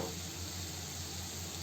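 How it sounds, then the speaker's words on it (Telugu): Kasuri methi, dried fenugreek leaves, frying in a pan for kaju paneer masala, giving a steady, close hiss of sizzling oil with no talk. "ఇప్పుడు కస్తూరి మేతి, కొంచెం కస్తూరి మేతి వేసి ఫ్రై చేసుకోవాలండి."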